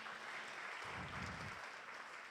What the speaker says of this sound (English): Let's offer them a better round of applause,